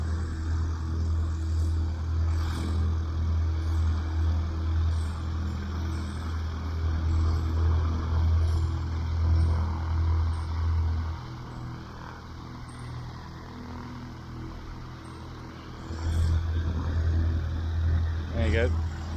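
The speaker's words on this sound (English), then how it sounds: "Got another one coming up in on the left hand side now, as they taxi back up the runway" A light aircraft taxis back up a grass airfield runway, its steady low propeller drone rumbling continuously at moderate distance, dipping briefly midway before swelling again, with wind noise and no clear talk over it.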